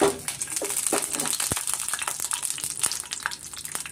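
Two cardamom pods and spices frying in hot oil for a mushroom pepper curry, a dense close crackling sizzle with a few sharp pops and stirring scrapes, continuous and fairly loud.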